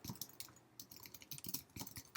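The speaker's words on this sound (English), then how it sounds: "This is the end of me typing standard double colon." Typing C++ code on a computer keyboard: quiet, quick irregular key clicks in short bursts, alone with no voices.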